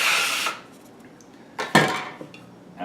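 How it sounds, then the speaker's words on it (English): Dough scraper scraping sticky fresh pasta dough off a work surface, giving a few loud close scraping strokes: a long rasp at the start, then two sharp bursts later, with quiet pauses between. "this is where the scraper comes in handy. You can scrape that off."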